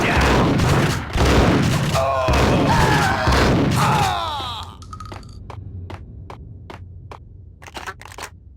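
Shots ring out in Max Payne, first under loud voices and music, then a run of about eight sharp, separate gunshots at an irregular pace once the talking stops, each crisp and close.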